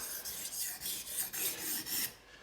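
Kitchen knife drawn repeatedly across a whetstone, about eight rhythmic gritty rasping strokes close by, each a bright scraping swell, then quiet at the end.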